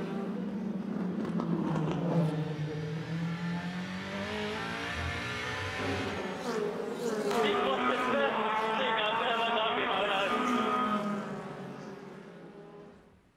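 A racing car overtakes on a circuit, its engine revving hard and climbing through gears with a passing roar as the field streams by, loud and sustained with a voice talking over it.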